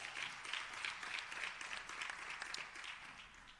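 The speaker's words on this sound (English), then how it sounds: "A round of applause for the MDDA." An audience applauds at the unveiling of new studios in Pretoria, steady mid-distance clapping that holds at an even level throughout without a clear swell or fade.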